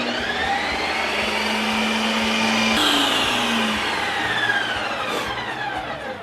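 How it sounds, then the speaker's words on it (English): Ninja Creami machine spinning a pint of orange creamsicle light ice cream, a steady loud whirring motor hum that shifts pitch partway through and keeps running without any voices. "pop this into the Ninja Creami, and we are going to do our first spin"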